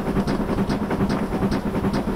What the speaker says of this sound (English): I'll give her a little bit more though, just so you can hear the chuffing a bit better.